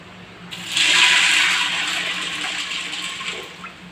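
Water poured from a tap into a pot of white beans to cover them: a steady, rushing splash that swells quickly and then continues at a slightly lower level before easing off.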